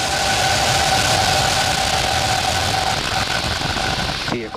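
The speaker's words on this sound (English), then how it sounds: "Ignition. Liftoff. Go Falcon." A SpaceX Falcon rocket launching NASA's IXPE observatory roars at liftoff as a dense, continuous rumble with a steady hum running through it. The roar stays loud and even throughout and thins out briefly at the very end.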